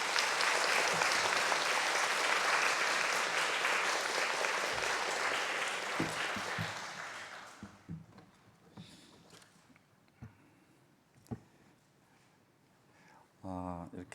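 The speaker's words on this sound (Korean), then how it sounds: "우리 박수로 한번 목사님을 환영해서 모시겠습니다" A church congregation at a combined Sunday worship service claps loudly and steadily for about seven seconds. The applause then fades away, and a voice begins speaking over scattered small noises in the hall.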